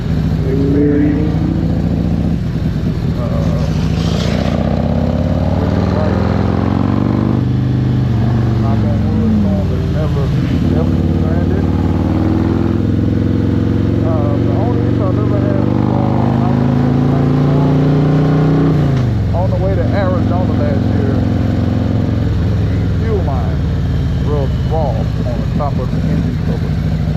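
Motorcycle riding along the Tail of the Dragon road, its engine droning steadily and shifting pitch as it accelerates and settles, a continuous loud drone with someone talking over it throughout.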